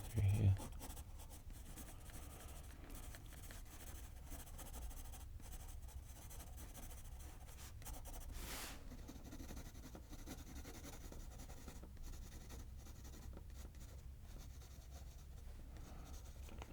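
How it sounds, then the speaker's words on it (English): Pencil sketching a house on paper: a soft, steady scratching and rubbing of graphite, very quiet and close, continuing for the whole stretch while someone speaks softly. "So little sketching through here."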